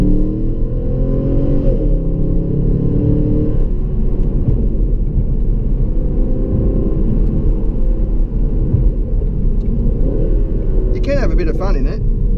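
A 2016 Holden Calais V Sportwagon with an LS3 V8 rumbles deeply as it accelerates, heard from inside the cabin, steady and strong with a short sharper noise near the end and no clear speech.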